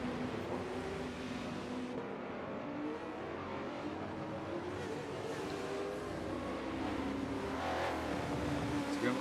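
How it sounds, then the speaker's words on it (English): Race cars on a rolling lap at the Indianapolis Road Circuit during an eight-hour endurance race, heard as a faint, continuous blended engine drone with a slight rise in revs near the end. "we're just watching some of the races now as they're on their rolling lap"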